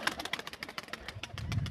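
Pigeons on a house rooftop give soft, repeated cooing in quick pulses, fairly faint and close, with a low rumble building toward the end.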